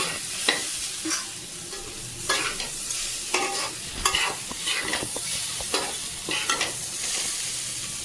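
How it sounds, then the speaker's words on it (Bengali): Maggi noodles stirred and fried in a wok over high flame, a steady sizzle with repeated scraping and tapping strokes of a spatula and fork against the pan, close and clear with no talking. "কড়াইতে ম্যাগি বানাচ্ছি"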